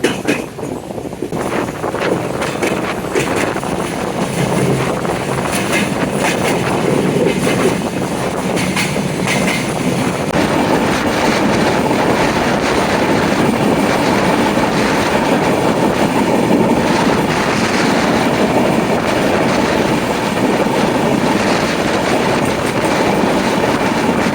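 The Sagardari intercity express, heading from Khulna toward Ishwardi on a rainy afternoon, picks up speed out of a station: a loud, steady rumble of wheels and rhythmic clatter from inside the carriage, with no voices.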